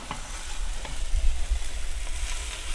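Eggs frying in a pan, a steady soft sizzle with faint crackles and a few light scraping stirs, close and continuous with no talking.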